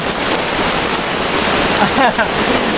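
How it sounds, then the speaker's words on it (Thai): Heavy rain driven by strong wind onto a military-style camping tent, a dense, loud, continuous hiss and patter that fills the whole clip, with a faint voice partly buried underneath. "ถ้าลมพัดแรงเนี่ยฝนสาดเข้ามา"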